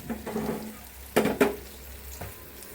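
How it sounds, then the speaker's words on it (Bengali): Chicken pieces fry in a pan in a home kitchen, with a soft sizzle and a few brief clatters of handling or stirring, fairly quiet and close with no talk. "আমি তো এখানে মাংস ভাজা বসাই দিলাম।"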